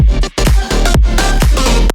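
Drop section of an electronic track with a layered kick drum, thumping kicks repeating under dense, bright, sustained synths and full-range mix, loud and continuous without any voice.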